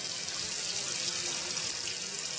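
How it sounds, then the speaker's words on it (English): Tap water runs steadily into a basin to fill a guinea pig's bath, a continuous bright hiss and splash, close and even with no pauses. "Okay, I'm just filling up the water for Scooter."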